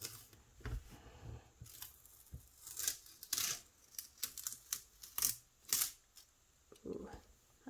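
Masking tape peeled away from dried Marabu art crayon artwork on paper, giving a series of close, sharp tearing and ripping bursts in an irregular rhythm with brief pauses between pulls.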